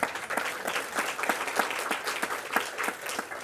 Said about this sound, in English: Please give yourselves a round of applause for making this happen.